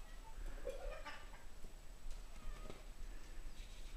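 A cat gives a short, soft meow, faint against a quiet room hum.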